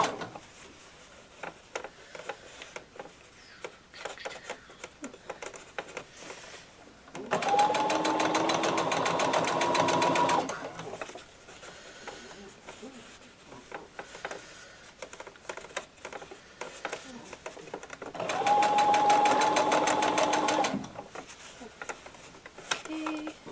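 A sewing machine stitching a zipper runs in two loud bursts of about three seconds each, separated by quieter handling clicks and rustles, heard close up.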